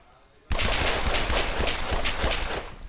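Burst of rapid automatic gunfire in the video game Arma 3, starting abruptly and continuing as a loud, close, sustained stream of shots with no pause.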